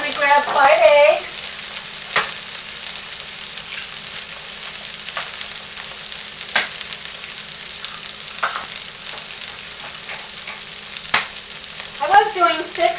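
Pork chorizo cooks in a pan with a continuous low sizzle and the occasional sharp clink of a utensil, and a voice speaks briefly at the start and end.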